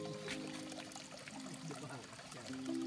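Water runs steadily from a tap at a forest work camp, a continuous splashing pour with a low hum beneath it, moderately quiet and unbroken.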